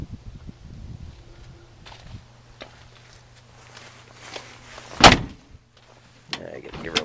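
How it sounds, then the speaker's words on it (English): Door of a 1974 Toyota FJ55 Land Cruiser opening, a sharp metallic clunk and latch click standing out mid-clip over quiet outdoor background with light footsteps and shuffling before and after. "Here, I'll open up this door. See, it opens pretty nicely."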